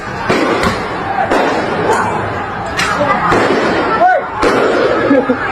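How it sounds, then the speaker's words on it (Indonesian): Sharp gunshots crack out at a street demonstration, several separate bangs spaced a second or so apart over a noisy outdoor crowd, with people speaking throughout. "Tuh, ditembak lagi."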